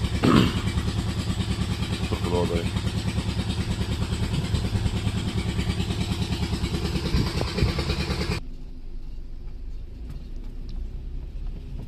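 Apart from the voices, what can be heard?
irrigation pump engine running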